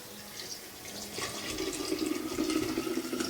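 Sweetened tea for homemade kombucha being poured, a steady liquid stream that swells in the second half with a bright splashing hiss, close and moderately loud, with no talking.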